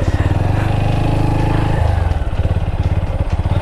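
TVS Apache RTR 160 motorcycle riding along a village road, a steady close engine drone with a shift in pitch partway through, then a pulsing, throbbing idle-like rhythm.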